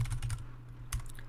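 Keys clack on a computer keyboard as a command is entered, a quick burst of close taps, a pause, then a few more strokes over a low steady hum.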